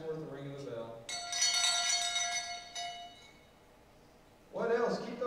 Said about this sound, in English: that's worth the ring of the bell